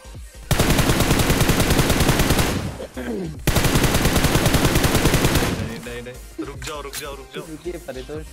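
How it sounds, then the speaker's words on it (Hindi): Rapid bursts of automatic gunfire in PUBG Mobile, two long sustained volleys separated by a short pause, then scattered shots and clatter. "वहां से साउंड आ रहा था गोली चलने का"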